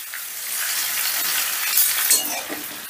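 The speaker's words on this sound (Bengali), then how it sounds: "এবারে ওল আর আলুটাকে গ্যাসের আঁচটা বাড়িয়ে দিয়ে বেশ লাল লাল করে ভেজে নেব।" Elephant foot yam and potato chunks frying in oil over a high gas flame, making a dense, loud, steady sizzle with a few faint clinks of a utensil.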